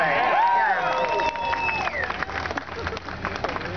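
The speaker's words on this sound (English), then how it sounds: "Give yourself an applause." Crowd applause and cheering at an Occupy Wall Street rally in Union Square, New York, dense and loud at first with voices shouting over the clapping, then thinning into scattered cheers.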